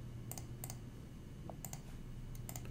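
Computer keyboard typing on a Windows PC, with short clusters of quiet clicks over a steady low hum and a few pauses between keystrokes.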